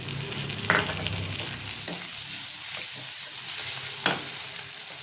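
A fried spice paste for begun bahar sizzling in a pan, a steady close crackle with occasional spoon scrapes and clinks, and nobody talking.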